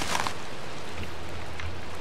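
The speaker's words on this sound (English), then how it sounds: "So it's raining and we found shelter." Steady rain falling in Minecraft, a constant hiss of drops filling the background at moderate loudness with no talk over it.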